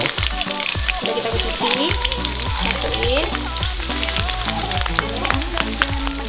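Curry leaves sizzle and crackle loudly in hot oil in a pan while an Aceh-style tuna stir-fry is being cooked, a steady dense frying sound with a brief spoken word over it.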